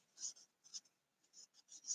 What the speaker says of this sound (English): I'm going to erase it.